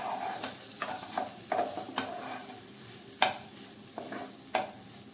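Green peas cooked with ginger and chilies for patties sizzle softly in a pan while a spoon scrapes through the mixture in regular stirring strokes, each a short clatter over the low hiss; close and fairly quiet, no talking.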